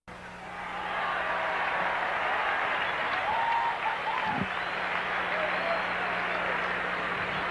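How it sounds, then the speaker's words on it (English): Baseball fans scattered through a stadium's loge seats applaud a nice catch during a 1984 Mets at Astros game in the top of the ninth, a steady wash of distant crowd clapping and murmur running throughout with faint broadcast talk beneath. "Fans applaud a nice catch by somebody in the loge seats."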